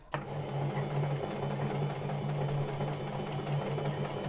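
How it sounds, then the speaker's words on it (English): An old sewing machine set to zigzag starts with a clack and runs with a steady, close mechanical whir and rapid rhythmic stitching hum for several seconds. "Probably the wrong setting, but anyway, turn her off."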